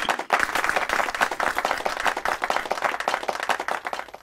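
An audience at a spiritual memorial gathering breaks into loud, steady applause, many hands clapping close and continuous with a lively pulsing texture for the full few seconds.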